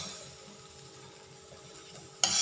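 Shrimp and holy basil stir-fry being reheated in a pan, a steady soft sizzle with faint stirring scrapes, ending in a sudden louder burst of hissing near the close.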